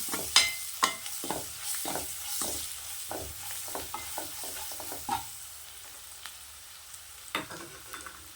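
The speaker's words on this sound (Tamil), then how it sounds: "நல்லா இந்த எண்ணெயிலே நல்லா கரைச்சி விடுங்க" Homemade chilli powder and salt are stirred into hot oil for mushroom curry: a soft sizzle under irregular close scraping and clinking of a spoon against the pan, with no talking.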